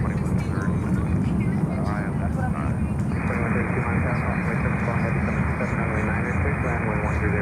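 A large airliner with CF6 jet engines roars loudly and steadily nearby at a busy cargo airport, a continuous broadband jet rumble with a whining tone throughout.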